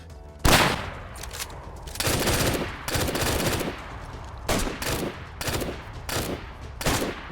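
Repeated gunfire bursts in the survival game DayZ during a fight, starting with a loud shot and continuing as rapid volleys in irregular clusters, with no talk over them.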